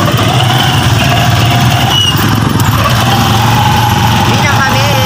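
A motorized tricycle engine chugs steadily and loudly up close on a street after a market trip, a constant throbbing rumble throughout, with faint voices underneath.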